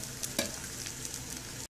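Potatoes fry in hot oil with curry leaves in a pan, giving a steady close sizzle with a few stirring scrapes and no speech, cut off briefly at the very end.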